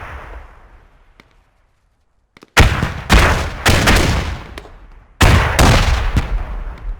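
Grenade explosions in a video game battle: a few loud, heavy blasts after a quiet stretch, close together with sharp onsets and rumbling tails.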